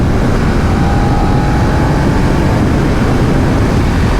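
A 2020 BMW F900R motorcycle engine drones steadily while riding desert roads, a loud continuous roar mixed with rushing wind, with no pauses.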